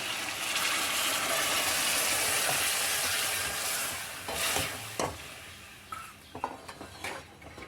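Hot water poured into a pan of ash gourd frying for a masala curry, a loud rushing sizzle for several seconds that fades into quieter bubbling with scattered clinks of a spoon against the pan.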